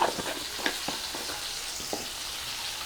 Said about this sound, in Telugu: ఇలా వేసుకొని కొంచెం లైట్గా ఫ్రై చేసి మూత పెట్టి మగ్గించుకోవాలి